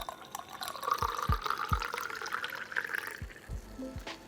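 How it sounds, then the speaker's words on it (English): Tennessee whisky glugs and trickles as it is poured from a bottle, a steady liquid flow with a few soft dripping splashes, close and fairly quiet with no talking. "I just poured everywhere."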